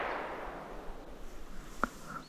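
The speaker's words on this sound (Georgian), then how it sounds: "სარაკი დაიწყო პირველი გასროლა გავიგეთ იქიდან" A single distant gunshot rings out during a wild boar hunt in the mountains of Ingushetia, a short faint crack with a brief echo over quiet outdoor background noise.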